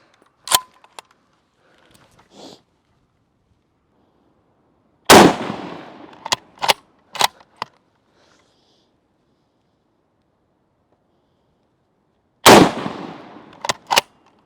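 Rifle shots at a WWII rifle qualification test, loud sharp cracks with echoing tails, one early, then a cluster near the middle and another near the end, separated by near silence.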